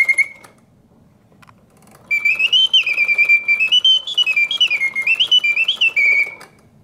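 A vintage mechanical singing bird cage set to pause gives a brief chirp, falls quiet, then launches into a loud, sustained whistled song with rising and falling oscillating notes.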